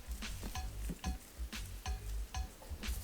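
Steak cooking in a pan for pot roast, giving a steady close sizzle with recurring scraping and stirring noises at a regular rhythm, with no talking.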